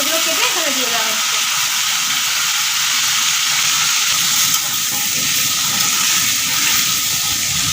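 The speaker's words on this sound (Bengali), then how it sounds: "একটু আলুগুলোকে ভেজে নিলাম এর মধ্যে।" Potatoes fry in oil with cumin, giving a steady, close hiss and crackle that runs throughout, with someone speaking briefly over the opening.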